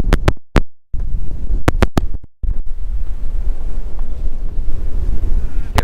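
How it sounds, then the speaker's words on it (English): A gale buffets the microphone outdoors beside a campervan, with heavy low rumbling gusts and a few sharp clicks and dropouts at the start, then a continuous loud roar. "now it is blowing a gale"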